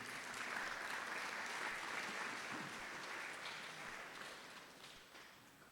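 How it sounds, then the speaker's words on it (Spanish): A church congregation applauds in a loud, sustained, dense wash of many hands clapping at once, easing off slightly near the end. "Denle un fuerte aplauso a nuestro Dios."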